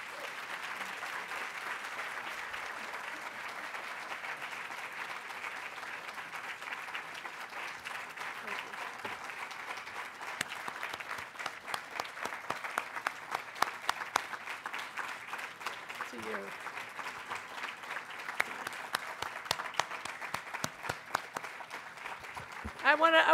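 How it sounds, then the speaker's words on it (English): An audience at an education policy event applauds, with continuous dense clapping throughout and sharper individual claps growing stronger toward the end. "I want to share this applause with all of you"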